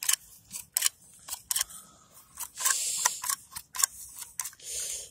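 Sharp cuts slice through lawn turf as it is divided into squares while a lawn is redone, a close series of irregular crisp snips and scrapes with quiet pauses between them.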